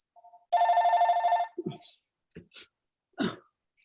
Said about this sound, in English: This my phone's ringing too.